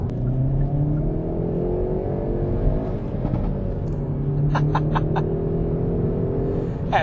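A Hyundai i30 Fastback N engine revs and accelerates hard. Its loud, throaty roar rises through the gears with deep rumbling and a few sharp high pops toward the end. No talking is heard.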